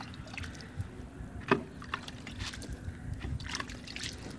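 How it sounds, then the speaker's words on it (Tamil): Water sprinkled lightly over freshly loosened soil in a rooftop organic terrace garden seed bed gives faint, soft patters and trickles, with one brief louder splash, all at a low level with no talking. "அதை அப்படியே ஜஸ்ட்டு கொஞ்சம் தண்ணி தெளித்து விடுங்க."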